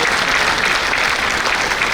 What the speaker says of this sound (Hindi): साथियों, जोरदार तालियों के साथ उत्साहवर्धन के लिए